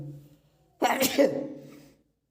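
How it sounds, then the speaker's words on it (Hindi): A single human sneeze in a classroom-style lesson, a sharp close burst after a quiet hum, trailing off in about a second. "ये देखिए यहाँ पे हम एक बार छींक लूँगा।"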